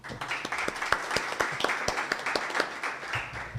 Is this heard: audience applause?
yes